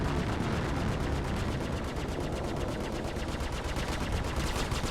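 Spaceship guns firing in the space-combat game Star Citizen during a Vanduul Swarm dogfight, a loud, relentless rapid-fire barrage of shots pounding continuously throughout with no pauses.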